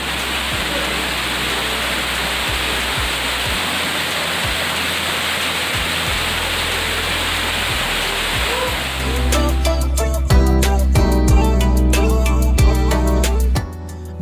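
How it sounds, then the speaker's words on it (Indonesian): Curug Pamutuh waterfall at the foot of Mount Galunggung near Tasikmalaya roars as a steady, broad rush of falling water. Partway through, nearby music comes in over the roar. "kita sudah sampai di Curug Pamutuh, tepatnya di kawasan kaki Gunung Galunggung"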